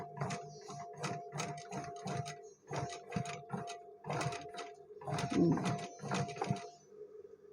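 A sewing machine stitches denim in reverse with thick jeans thread. It makes a steady mechanical chattering in rhythmic runs, pausing briefly between bursts, close and moderately loud.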